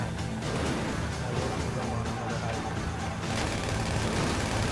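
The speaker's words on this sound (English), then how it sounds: "they're shooting me" Rapid gunfire from a GTA V heist mission, dense and continuous bursts layered with crashing impacts, loud and sustained throughout, with voices talking over the shooting.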